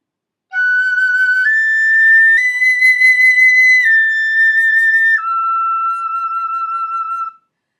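Tin whistle playing a closing phrase, a clear, bright melody of several sustained notes stepping up and back down, alone and close.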